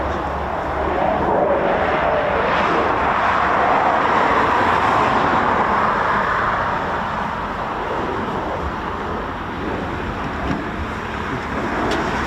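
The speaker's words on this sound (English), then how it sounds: "Typhoon on downwind, about to go into final." A Eurofighter Typhoon FGR4 jet flies downwind near RAF Coningsby, heard as a broad, rushing engine roar that swells in the middle and eases slowly away, with faint road traffic underneath.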